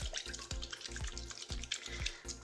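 Water tap dripping steadily into a sink, regular drops about every half second, close and clear over a faint background hiss.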